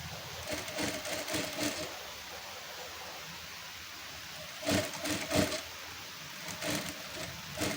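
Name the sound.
sewing machine stitching a folded fabric edge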